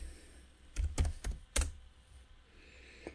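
Keys tapped on a computer keyboard while entering C# code, a quick burst of four or five clicks followed by a pause and one faint final tap, close and clear with no talking.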